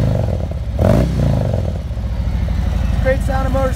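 A 2018 Street Glide Special motorcycle with an aftermarket exhaust idles with a deep, throbbing rumble, blipping briefly louder as the throttle is opened, close by.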